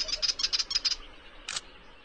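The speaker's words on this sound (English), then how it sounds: "this songbird's called a willy wagtail" A willy wagtail songbird in Australia's Northern Territory gives a quick run of about seven sharp, bright chirps, followed after a short pause by one more clear note, close and alone against faint background.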